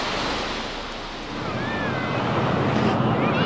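Ocean surf washing in steadily with gusting wind and rumbling microphone buffeting, a continuous loud roar with no break.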